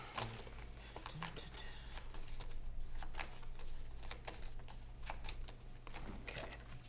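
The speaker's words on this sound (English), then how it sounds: "Shuffling up." Dixit game cards being shuffled by hand, a steady run of soft papery riffles and flicks, close and moderately loud with no talking over it.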